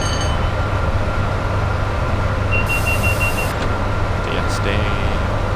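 Inside a video-game train cab with the door and window open, a steady loud rumble of running gear and engine noise carries on throughout, with a brief high electronic beep sequence partway through.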